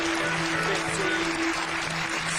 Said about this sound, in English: applaud now.